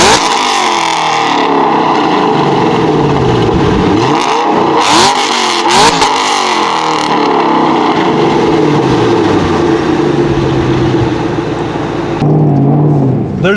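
A Shelby GT500 engine revs hard and accelerates, a loud, close and continuous roar with rising and falling pitch sweeps, alone with no talking.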